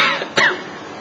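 A man imitates a husband's cough: one short, sharp cough burst, close and moderately loud, in a quiet room with no speech around it.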